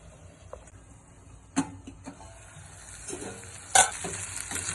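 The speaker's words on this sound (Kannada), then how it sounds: "5 ನಿಮಿಷ ಲೋ ಫ್ಲೇಮಲ್ಲೇ ಬೇಯಲಿ." Brinjal and tomato curry with turmeric and salt cooks on a low flame in a pan, giving a soft, steady sizzle broken by a few brief clinks and stirring bursts, with no talking.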